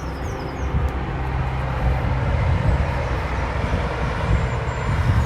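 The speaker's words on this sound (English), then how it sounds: "That could be a train going by." A heavy, steady rumble of a passing Greater Anglia passenger train, broadband and sustained throughout, with a faint high squeal near the start.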